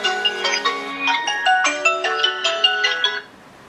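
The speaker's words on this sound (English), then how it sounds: "I've never heard my phone ring before" A mobile phone ringtone plays a bright, plucked melodic tune of quick repeating notes for about three seconds, then stops, clear and close with no speech.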